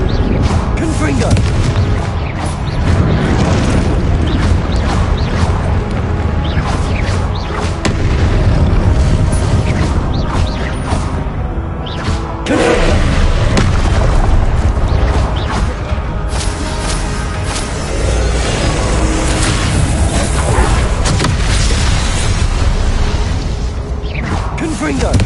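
Repeated Confringo blast spell explosions in Hogwarts Legacy battle, loud thudding booms and bursts with whooshing spell casts, piling up almost nonstop over the fight, with voices heard now and then.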